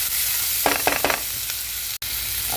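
Tomatoes cooking with a pinch of salt in a pan give a steady close sizzle, with a few short scraping stirs and one sharp click near the end, no talk.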